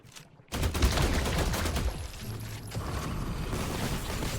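Rapid bursts of weapon fire in The Last Caretaker video game ring out after a brief quiet start, with mechanical clatter and rattling through the rest, close and loud.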